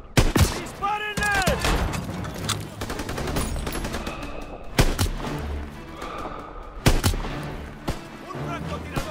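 Gunfire in the World War II shooter Call of Duty WW2 sounds as loud bursts of rifle and machine-gun shots with heavy thuds, scattered over about nine seconds amid battle noise and shouted voices.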